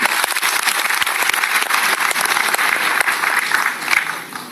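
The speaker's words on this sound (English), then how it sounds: "So give a big round of applause" Loud applause from a large developer conference audience in Bangalore, many hands clapping in a thick continuous burst with a few sharper individual claps standing out, tapering slightly near the end.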